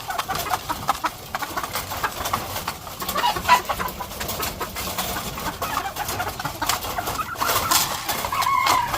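Breeding hens kept for cockfighting stock cluck and chatter in a yard, with other fowl calls scattered around, moderately close and continuous with no talk.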